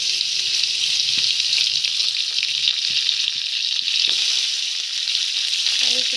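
Chopped vegetables, for a simple Bengali bethua greens dish, drop into hot oil already tempered with dried red chillies and five-spice, giving a steady, loud, close sizzle and frying hiss with faint stirring clinks throughout.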